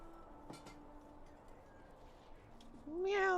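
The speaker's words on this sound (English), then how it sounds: "You heard a kitty cat in the background." A house cat meows once in the background near the end, a short rising cry over a quiet room hum, following faint earlier noises.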